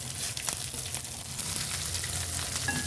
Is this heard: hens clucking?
no